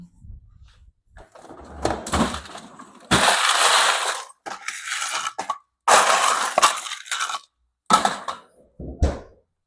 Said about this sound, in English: I'm going to take it over to my freezer and drop a couple ice cubes in it.